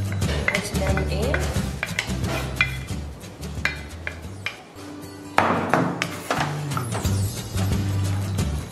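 Pasta being mixed in a pan for carbonara, with repeated metallic scrapes, clinks and taps of a utensil against the pan, close and fairly loud, in an irregular stirring rhythm.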